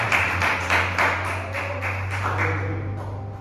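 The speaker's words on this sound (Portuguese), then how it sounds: "Quantos podem aplaudir o nome do Senhor?" A church congregation claps in a steady rhythm, fairly close and full. Sharp, evenly spaced claps sit over a constant low hum and gradually ease off in loudness.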